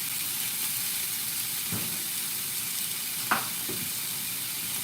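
Beef skewers sizzle on high heat, a steady broadband frying hiss that runs throughout with a few brief louder pops and crackles.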